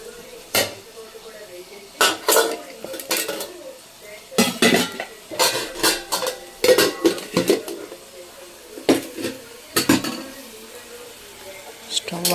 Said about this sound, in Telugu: ఇక్కడైతే నేను అన్నం పెట్టుకుంటున్నాను